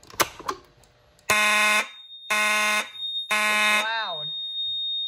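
A newly installed fire alarm system sounds during a test: three loud, sustained horn blasts with a steady high tone running through them, the last blast sliding downward as it cuts off. Faint talk is audible at the start.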